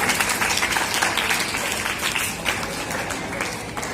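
Sustained audience applause at a school Ramadan and Iftar celebration, a dense steady wash of many hands clapping together, loud and continuous throughout with no speech over it.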